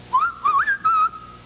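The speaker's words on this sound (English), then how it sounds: "This will sing if I whistle." A person whistles at a singing toy animal, giving a few close, clear pitched notes that slide up and down in short phrases, with no talking.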